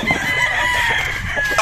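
A game rooster stag on a gamefarm crows close and loud in one long, strained call that rises and holds before breaking off, with faint clucks and yard noise around it.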